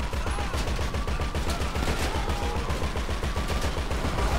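Rapid automatic gunfire in Grand Theft Auto V: a dense, continuous fusillade of close, punchy shots at a fast steady rhythm, loud and sustained throughout.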